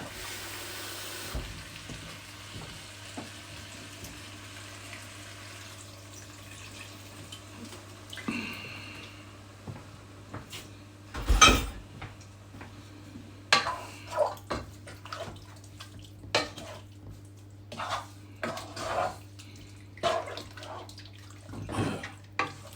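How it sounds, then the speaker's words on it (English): In a kitchen where Jamaican rice and beans are being cooked, water splashes into a cooking pot in a short pour, followed by scattered clinks and clatters over a low steady hum. "So I'm going to put a little bit of water in."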